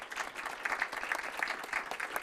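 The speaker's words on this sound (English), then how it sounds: "Please join me in giving them another round of applause for Ashley and her team" A modest round of applause at a city council meeting, quiet and steady clapping from a small audience in a chamber, continuing evenly throughout.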